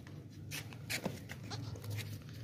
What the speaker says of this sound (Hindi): ये सर बकरा आ गया माशाल्लाह से